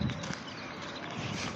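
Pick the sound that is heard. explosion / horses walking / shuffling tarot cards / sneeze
horses walking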